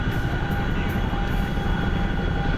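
Video game helicopters flying overhead give a continuous, loud rotor-and-engine drone with a steady hum and a heavy low rumble, unbroken and with no talking.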